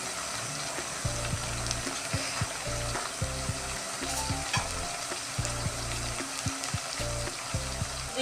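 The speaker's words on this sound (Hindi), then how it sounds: "तो देखिए ये हमारा लहसुन अदरक अच्छे से भुन गया है" Garlic and ginger frying in a pan for bhindi gosht, a steady close sizzle with repeated stirring scrapes of a spoon against the pan, no talking.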